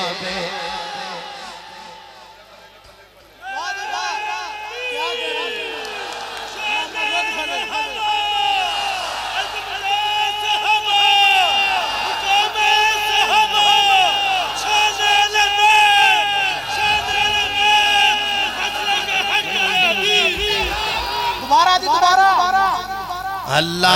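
Large crowd at a religious gathering chanting slogans in praise of the Companions, rhythmic massed voices rising and continuing loudly after a brief quieter opening.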